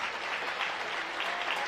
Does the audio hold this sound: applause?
yes